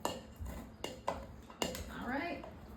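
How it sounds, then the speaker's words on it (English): A muddler pressing jalapeno in a glass while making a summer mocktail: three or four sharp clinking knocks against the glass, close and fairly soft, under a quiet voice. "Then I'm gonna take my muddler again. I'm gonna give that a little muddle."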